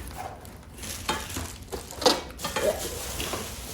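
Saucepans from a new cookware set are lifted and set down, giving a few close metallic clanks and knocks with one bright ring midway over low handling noise.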